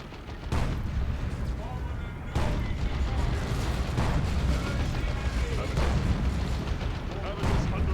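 Heavy gunfire and tank cannon blasts roar through a video game battle, with dull booms landing every couple of seconds over a continuous dense wash of shooting, and a voice talking over the din.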